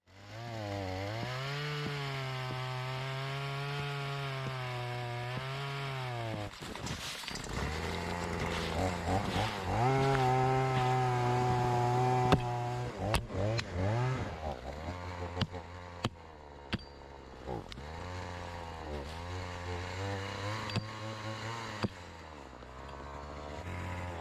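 A failing chainsaw at a forest cabin drones steadily, its pitch dipping and rising as it bogs under load, then sputters unevenly toward the end with a few sharp clicks.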